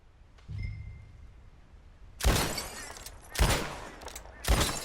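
Three loud, sharp gunshots crack out in Red Dead Redemption 2, spaced about a second apart with short echoing tails, after a quieter lead-in; no talking.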